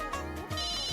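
A telephone rings indoors in a home, a steady electronic ringtone with a bright, sustained warble filling the second without pause.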